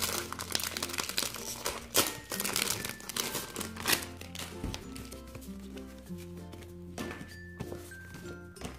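Plastic folders for a dollar-store binder planner crinkle and rustle close by, with steady handling, sliding and light clacks throughout and no talking.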